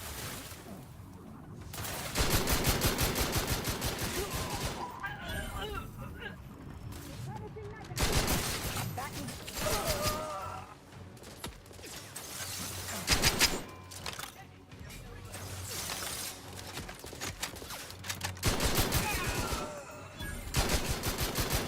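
Rapid bursts of automatic gunfire during a firefight in The Outer Worlds 2, with sustained rattling volleys that start and stop repeatedly over a steady background, and a voice speaking between bursts.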